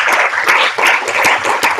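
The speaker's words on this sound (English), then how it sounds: "we give them a round of applause too." Audience applause for the panelists at the close of an international law conference panel, dense steady clapping throughout, loud and close, with no talk over it.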